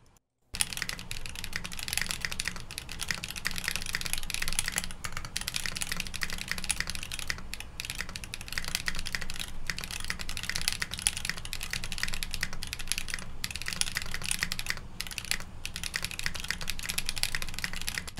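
Fast, continuous typing on a custom mechanical keyboard in a sound test: dense, steady clacks close to the microphone with only the briefest pauses and no talk.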